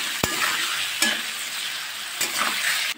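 Garlic sizzles in hot oil with spices and a pinch of salt, a bright continuous frying hiss close by, broken by a few sharp clinks and scrapes of a stirring utensil against the pan.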